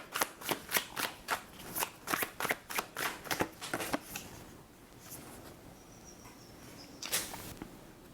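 Tarot cards are shuffled in a quick run of crisp riffling bursts for several seconds, then the handling softens into quieter card rustles, with one more brief flick near the end.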